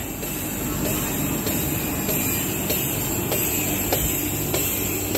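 The electric motor of a McDonald's frappe machine runs with a loud, constant whirring drone, unbroken from start to finish, with faint rhythmic ticks riding on top.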